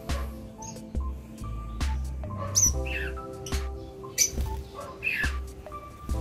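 Bright, repeated bird whistles and chirps ring out in an aviary over a steady low hum, several birds calling close by in quick, overlapping bursts.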